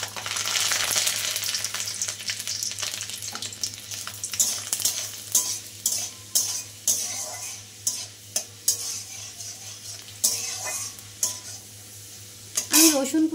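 Chopped garlic fries in hot oil in a pan, with a constant sizzle and rhythmic scraping and clinking as a spatula stirs it close by, and a low hum running underneath.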